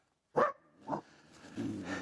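A young coyote born this year, caught outdoors, gives two short sharp yelping whimpers up close, followed by softer drawn-out whining cries.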